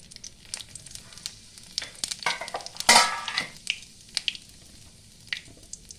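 Bay leaves, a dried red chilli and white cumin seeds are dropped into hot oil left from frying pangas fish, crackling and popping in irregular bursts with one loud spitting flare, then settling to a light sizzle.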